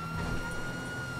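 A police car siren in the video game GTA V wails steadily and loudly, a continuous electronic tone filling the short moment with no talking.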